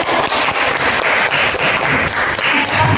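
A class of students claps for their teacher during a microteaching maths lesson in an Indonesian classroom: steady, dense applause that fills the room for a few seconds with no speech over it.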